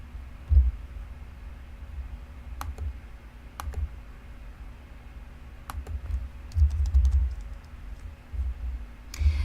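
Someone types on a computer keyboard while entering a patient's details into medical office software. Quiet, irregular key clicks come in short clusters over a low background hum.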